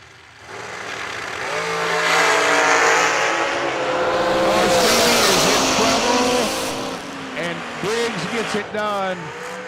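A Kloffenstein chassis dragster in a bracket race at a drag strip event, its engine a loud sustained roar that rises from about a second in and stays strong, with an announcer talking over it.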